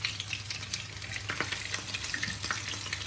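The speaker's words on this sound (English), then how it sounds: "Now we're going to show you how we're going to fry the ones that have mozzarella in them." Mozzarella-stuffed hash browns fry in hot oil, giving a dense, continuous sizzle with scattered crackles and pops over a low steady hum, close and fairly loud with no talk.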